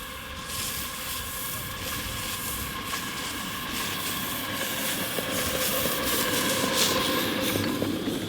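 A model steam train pulling up on a large outdoor miniature railway, giving a steady hiss and rolling rail clatter with faint chuffing, continuous and fairly close, with no talk.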